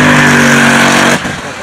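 W12 supercar accelerating hard at the Goodwood Festival of Speed 2019, a loud close engine roar with rising harmonic tones that cuts off abruptly into a quieter rumble near the end.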